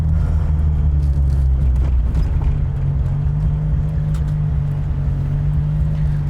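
A 13B rotary-swapped Mazda RX-3 with over 500hp drives along, its engine a loud, steady, droning rumble heard from inside the car, constant throughout with no voices.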